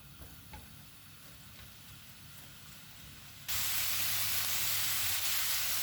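Chopped dry onions sautéing in olive oil in a non-stick frying pan, a steady close sizzle that abruptly jumps much louder and brighter partway through as the frying intensifies.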